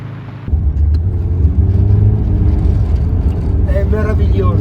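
A car drives across ice on a winter driving course in Livigno, its engine rumbling steadily and rising under acceleration with a whirring drone, while people talk over it.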